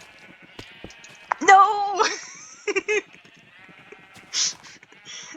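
Minecraft sheep bleating, a wavering drawn-out bleat followed by a couple of short bleats nearby, with a person's voice briefly speaking alongside.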